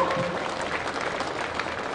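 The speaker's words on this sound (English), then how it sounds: "big round of applause for the Vic Country boys and the Vic Metro guys" A crowd at an AFL Victoria community football presentation applauds the Vic Country and Vic Metro teams with a brisk, even burst of clapping and no talk over it.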